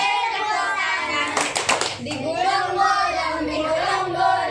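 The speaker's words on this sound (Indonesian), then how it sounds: "Buka sambil tepuk tangan" A class of fifth-grade children clapping hands while singing together, a brief burst of quick claps in the middle of the clip under loud, continuous group singing.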